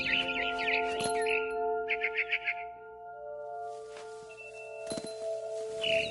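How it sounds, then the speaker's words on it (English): Barn swallow chirps in a video game scene, with short bursts of tweeting around the first and second seconds over a steady ambient drone, plus a couple of soft thunks. "Then I heard chirping outside my window."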